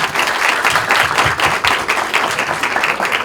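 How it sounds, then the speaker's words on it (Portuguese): An audience claps in dense, sustained applause that stays loud and even throughout the short stretch. "salva de palmas"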